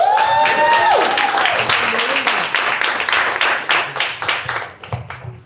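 Applause from the audience at a Miami Gardens candidates forum, clapping that swells briefly then thins into scattered claps, following a speaker's voice at the start.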